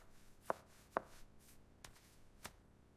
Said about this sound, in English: I am cutting the meat.